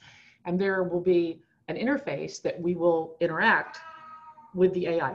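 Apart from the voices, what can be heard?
cat meowing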